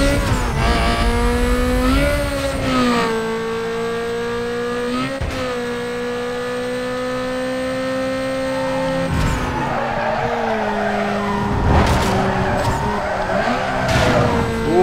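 A car skids sideways while racing in Need For Speed: Most Wanted, the engine droning loud and steady with shifting pitch as tires scrub and squeal through the slide, with brief scraping bursts near the end.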